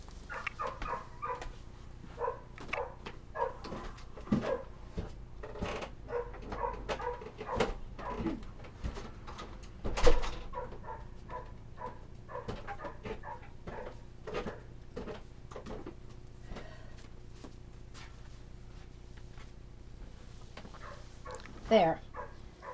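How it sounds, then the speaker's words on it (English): A dog barks repeatedly at a distance, its sharp yaps muffled and spread across the whole stretch, while a person talks quietly over it. "And so now we've got a barking dog."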